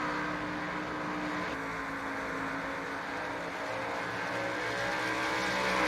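Race car engines in the iRacing simulator at Phoenix, a steady loud droning roar of several cars running together at speed, continuous with no pauses.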